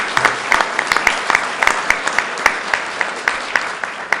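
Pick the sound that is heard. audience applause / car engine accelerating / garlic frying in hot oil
audience applause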